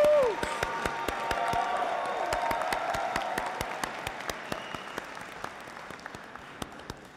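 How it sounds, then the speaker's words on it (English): At a university graduation ceremony, the audience claps and cheers in a sustained wave of applause, with a brief whoop at the start and sharp individual claps standing out as the sound slowly fades. "Shall we clap and cheer?"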